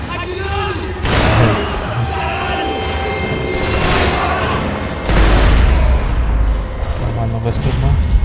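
Gunfire and heavy booms from the game Max Payne 3, loud and layered under steady talk from a man throughout.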